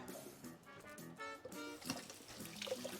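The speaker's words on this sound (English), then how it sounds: "I just wanna rinse these real quick" Running tap water streams over avocados being rinsed at a kitchen sink, a steady splashing trickle with brief louder spatters, close and continuous for about three seconds.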